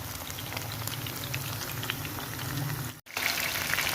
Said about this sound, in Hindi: ये ये हमारा चिकन जो है ये फ्राई हो रहा है